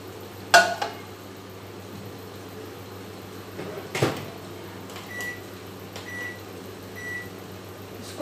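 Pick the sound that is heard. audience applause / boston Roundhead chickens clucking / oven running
oven running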